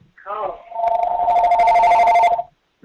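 A telephone rings during a public services commission meeting, sounding a steady electronic tone for about two seconds that then cuts off, preceded by a brief voice.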